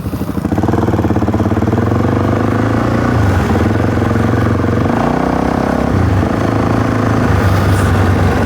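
A Kawasaki KLX 110 trail bike runs loud and steady up close on a trail ride, its engine drone shifting pitch a few times as the rider changes gears.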